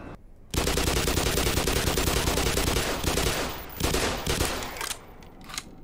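Video game gunfire: a loud, dense burst of shots rattles nonstop for several seconds and ends with a few trailing blasts.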